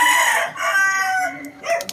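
A gamecock stag rooster lets out one close, loud crow, a strained and warbling cock-a-doodle-doo that trails off briefly at the end.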